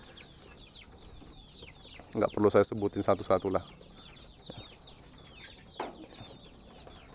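Free-range village chickens cluck in a brief burst of several rapid calls midway, set against a steady outdoor background with someone talking over it.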